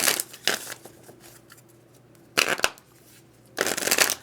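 Oracle cards being shuffled by hand in several loud bursts of riffling and flicking, separated by quieter pauses with faint handling, close up.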